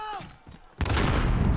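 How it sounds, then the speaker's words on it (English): A grenade detonates during a Call of Duty Warzone match: a sudden loud blast about halfway through, followed by a dense rumbling roar that sustains to the end, with voices talking beforehand. "Grenade up!"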